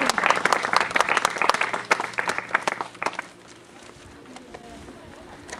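Audience applause at a contemporary art contest event, a burst of many hands clapping for about three seconds that then fades out, leaving quiet room sound with faint voices.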